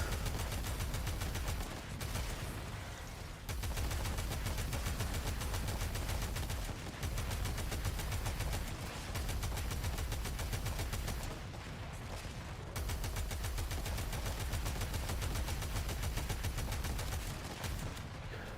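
Sustained automatic gunfire in the Warframe video game, dense rapid shooting running nearly nonstop with brief pauses, loud and close, no talking.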